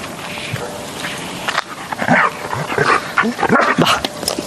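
A white Swiss shepherd police dog barks and yips in short, uneven bursts while searching for a scent at a canine training centre, close and fairly loud over a steady background hum.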